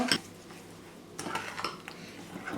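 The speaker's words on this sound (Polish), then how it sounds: "Tak go przemieszam i dodajemy cynamon. Mieszam." A spoon scrapes and clinks against a bowl while a cinnamon mixture is stirred, giving a sharp clink at the start and then a run of softer scraping knocks, close and quiet.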